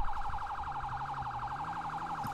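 A police car siren in a video game role-play cycles in a rapid, steady yelp, loud and close throughout, with a low engine hum underneath.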